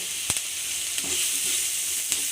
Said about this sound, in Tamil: இஞ்சி பூண்டு பேஸ்ட் போட்டுக்கலாம். கருவேப்பிலை போட்டுக்கோங்க.